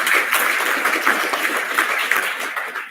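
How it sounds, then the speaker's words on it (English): A conference audience at an African telecommunications session claps together, a dense, continuous burst of applause that holds steady and then tapers slightly toward the end. "I thought we should all clap."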